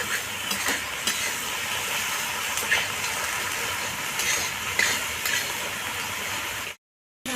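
Onion frying in a pan is stirred with a utensil, giving a steady, close sizzle with occasional clinks and scrapes, before a sudden short silence at the end.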